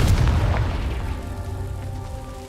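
A Confringo spell explodes in Hogwarts Legacy with a loud, deep boom at the start. The blast rumbles and slowly decays over about two seconds, followed by faint game ambience.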